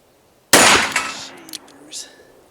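A single loud, sharp gunshot from a .44 Magnum firing a 300 grain round cracks out of near silence, then rings and echoes away over the next two seconds with fainter clanks and rattles trailing behind.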